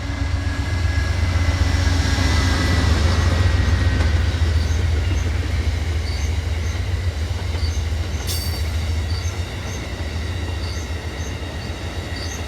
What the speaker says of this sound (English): Next up is Amtrak 42, the eastbound run of the Pennsylvanian.